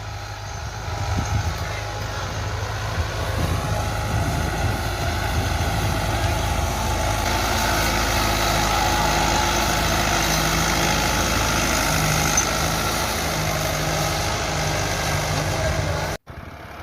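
A tractor engine runs steadily while ploughing a field, a loud, continuous low rumbling drone close by, with voices talking over it for much of the time before it cuts off abruptly near the end.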